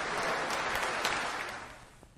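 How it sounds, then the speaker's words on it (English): An audience applauds at the national finale of the Rural IT Quiz 2021, a dense burst of clapping that is fairly loud at first and then gradually fades away. "with a huge round of applause"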